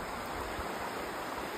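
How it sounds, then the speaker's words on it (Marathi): A small clean-water stream runs behind a holiday home in Germany, a continuous close rushing wash of flowing water, steady and unbroken, with no voices. "छोटा ओढा आहे, स्वच्छ पाण्याचा ओढा आहे"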